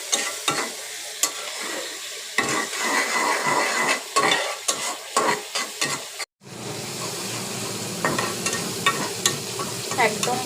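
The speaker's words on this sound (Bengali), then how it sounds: "চিংড়ি মাছটা ভালো করে পেঁয়াজ দিয়ে ভেজে নিচ্ছি, অল্প একটু হলুদ লবণ দিয়ে" Prawns fry with onion, turmeric and salt in a pan, a steady close sizzle broken by repeated scraping stirs, with a brief dropout midway before the frying resumes loud and continuous.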